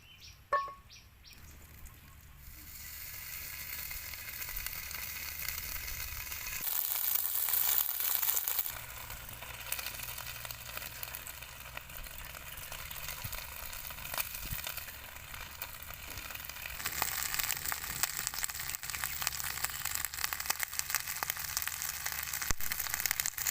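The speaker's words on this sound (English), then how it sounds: "I'm going to fry it on the fire and then eat it too" An insect frying on an open fire, giving a continuous crackling sizzle that swells and fades over a long stretch, with faint bird chirps outdoors in the background.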